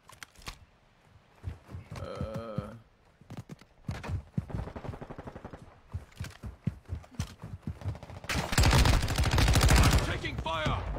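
Gunfire in a squad-based military shooter game, with sparse shots early on and a loud, dense burst of automatic fire near the end, heard amid voices and game noise.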